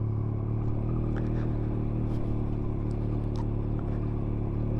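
A 2023 Yamaha XSR 900 motorcycle pulls away at low speed with a steady, droning engine rumble and wind noise, and a few faint clicks and knocks come through underneath.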